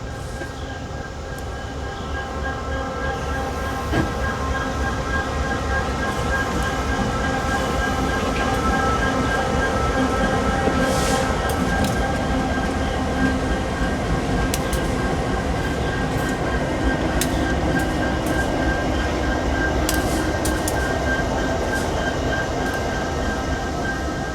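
Yadkin Valley Railroad locomotive YV1 moving at Donaha, a steady loud rumble of engine and rolling wheels with faint clanks and squeals throughout, continuous and close.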